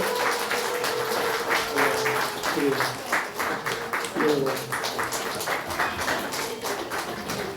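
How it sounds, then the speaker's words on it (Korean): Steady applause from a church congregation during a sacrament ceremony, dense and continuous throughout, with a voice singing or speaking over it at times. "우리 박수"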